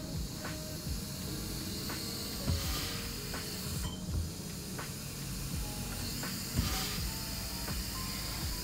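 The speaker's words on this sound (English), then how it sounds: "we open the foam valve here on the side. That allows oxygen to escape and allows CO2 to enter" Gas hissing from the side foam valve of a Boel iTAP counter-pressure beer bottle filler as the bottle is purged, a steady close hiss with faint clicks as the valve is worked, with no talking.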